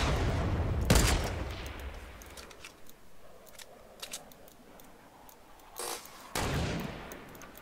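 Video game gunfire in a squads match, heard as a few sharp bursts and isolated pops at moderate distance, with faint ticking between the shots and no talk.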